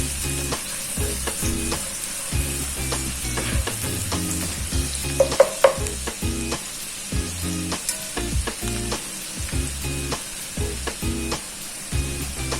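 Onion and garlic fry in a skillet for mushroom soup, with a steady close sizzle and frequent scraping stirs and clicks of the utensil over the whole stretch and no voices.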